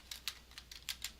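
Quiet keystrokes on a computer keyboard while editing a VBA program, about eight light clicks in an uneven burst, close and soft.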